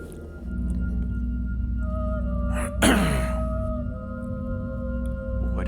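Eerie music from the video game Xenosaga 2 drones with sustained tones while a sudden whooshing swell cuts through midway, then the low hum carries on without speech.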